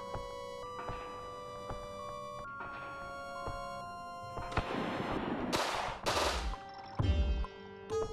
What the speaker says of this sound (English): And now I have a machine gun.